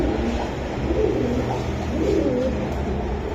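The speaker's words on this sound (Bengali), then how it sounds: "এটা কি কবুতর?" Rajshahi giribaz pigeons cooing close by, soft overlapping rolling coos repeating throughout over a low background rumble, with no talking.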